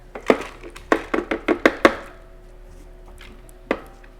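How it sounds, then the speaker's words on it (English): A series of sharp chopping thuds from a food processor chopping soaked, rinsed grain, about seven quick strikes close together, then a pause and one more chop, close and fairly loud. "So we're gonna put that in our food processor."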